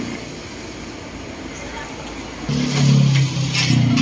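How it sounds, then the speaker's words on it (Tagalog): A large outdoor air-conditioner unit for a parlor starts up with a steady low motor hum and whir, louder from midway, over background noise. "Yan yata yung parang motor sa labas."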